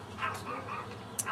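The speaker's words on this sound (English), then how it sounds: "and now the dog's barking." A little dog barks and yips in short, faint bursts somewhere nearby, mixed with background rumble and a voice talking over it.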